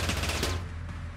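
Rapid gunshots in the top-down shooter Teleglitch ring out in a quick loud burst, then fade into a short decaying tail.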